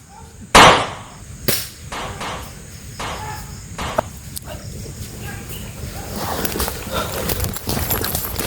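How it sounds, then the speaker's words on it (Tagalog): Gunshots ring out outdoors as a sharp, loud crack followed by several fainter pops spaced irregularly, with crickets and insects buzzing in the background throughout. "Kanina pa may nagbabarilan dyan ba?"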